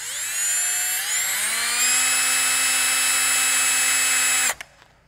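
A power drill cuts a countersink into a scrap metal panel, holding one steady high whine for about four and a half seconds before stopping abruptly, with a couple of faint clicks afterward.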